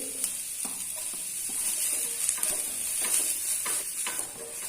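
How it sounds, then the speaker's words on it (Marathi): Dry coconut sautéed in oil in a kadhai along with onion, ginger and garlic: a steady faint sizzle with repeated scraping strokes of a spatula, close up, no talk. "यामध्ये मी सुकं खोबरं परतून घेते"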